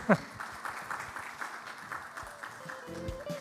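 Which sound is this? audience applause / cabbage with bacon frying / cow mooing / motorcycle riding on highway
audience applause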